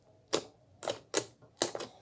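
Homemade slime is squeezed and pressed close up, giving a handful of loud, sharp clicking pops in quick succession, about five in two seconds, with no talking over them.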